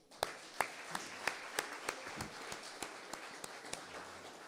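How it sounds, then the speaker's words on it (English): Sparse, rhythmic hand claps from an audience at an official youth projects gathering honouring a provincial MEC, about a dozen distinct claps spaced evenly over a soft hall ambience, faint and somewhat distant. "you shall clap for her"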